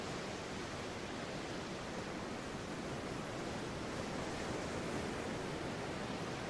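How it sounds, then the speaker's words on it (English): Ocean waves rolling in and out, heard as a steady, unbroken wash of broadband surf noise that holds at an even level throughout with no distinct breaks or voices. "the waves rolling in and out"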